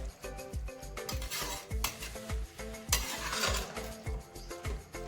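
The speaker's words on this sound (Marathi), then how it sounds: "मी दूध याच्यामध्ये घालते आणि हे मिक्स करून घेऊया" Carrot halwa stirred in a pan after milk is poured in, with a regular rhythm of soft thumping, scraping spoon strokes and light clinks against the pan, fairly quiet and without talk.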